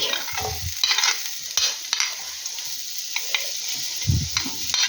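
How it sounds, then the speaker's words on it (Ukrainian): Onions frying lightly in sunflower oil for borscht, a steady bright sizzle with intermittent stirring scrapes and soft low thumps from the pan, close and alone. "От буду зараз засмажувати так легесенько цибульку."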